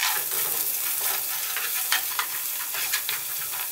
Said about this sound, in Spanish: aquí vamos a freír la cebolla picada, la mitad que teníamos, y vamos a agregar las nueces picadas